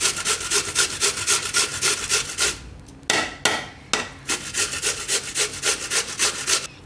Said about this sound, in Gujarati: હવે એમાં જ આપણે આ બટેટા છીણી લેવું આ રીતે.